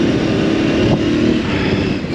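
An Aprilia Tuareg 660 motorcycle engine drones steadily and loudly from an on-board position while riding, a constant broadband roar with wind rush and no clear gear changes.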